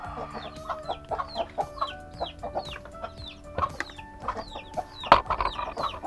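Chicks newly shut in a cage peep and cheep continuously, a busy overlapping chorus of short high calls close by, with a few louder chirps standing out and some soft clucking underneath.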